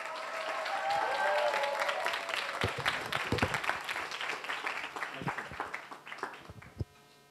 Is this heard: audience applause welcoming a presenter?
yes